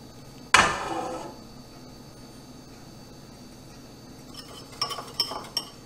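A ladle clanks sharply against a metal pot while hot goat milk liquid is scooped into it, followed by a low background hum and a few light clinks near the end.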